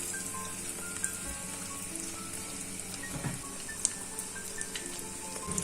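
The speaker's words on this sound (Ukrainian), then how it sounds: "Викладаємо в сковорідку та готуємо на повільному вогні 5-6 хвилин." Steady crackling sizzle of meat frying in a hot pan over low heat, a continuous hiss with occasional louder pops, no voices.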